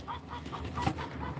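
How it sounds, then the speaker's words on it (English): A Barred Rock hen clucks quietly in a backyard flock: soft, repeated short clucks spaced through a brief stretch, heard at a low level over faint background noise. "the barred rock there is quite a chatty Cathy"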